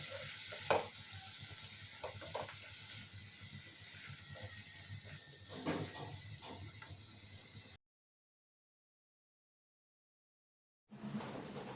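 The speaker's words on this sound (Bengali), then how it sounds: "এবার লো টু মিডিয়াম ফ্লেমে মশলাটা আমি খুব ভালো করে কষিয়ে নেব।" Spiced masala being fried and stirred in a pan on a low-to-medium flame for a Bengali katla fish curry with potatoes, with a soft continuous sizzle, occasional scraping knocks from stirring, then a few seconds of silence before the sizzle resumes.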